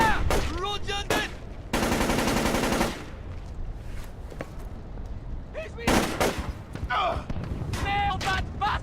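Rapid automatic gunfire from a Splinter Cell: Chaos Theory firefight in Seoul, a sustained burst up front followed by scattered shots and louder bursts later, with in-game voices shouting between volleys.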